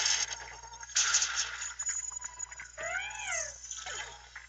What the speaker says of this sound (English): That's such a weird meow.